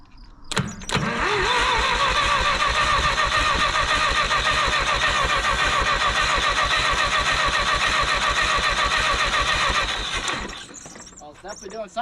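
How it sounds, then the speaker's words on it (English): A Minneapolis Moline UTU tractor engine fires up on ether and catches on LP gas, settling into a loud, steady close-up chugging run with rapid regular firing pulses that lasts about nine seconds before cutting off. "hit it again, and it popped off on ether and took right off on LP"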